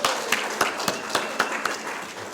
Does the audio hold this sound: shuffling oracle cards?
no